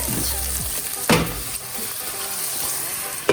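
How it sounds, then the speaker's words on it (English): Onions, garlic and ginger sauté in a pan over a medium flame, giving a steady, close sizzle of frying with occasional stirring scrapes and clinks. "And saute on a medium flame."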